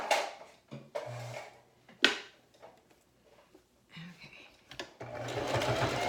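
Short bursts of a sewing machine backstitching the seam of a fabric makeup bag, brief whirring runs broken by pauses and clicks, with faint handling noise between them.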